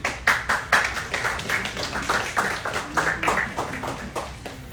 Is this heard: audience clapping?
yes